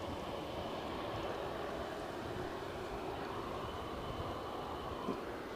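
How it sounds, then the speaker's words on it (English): Aer Lingus airliner arriving at Edinburgh airport, a steady broadband engine roar heard from a distance, faint and continuous without clear rise or fall. "That inbound Aer Lingus has proved a little bit quicker than I was anticipating"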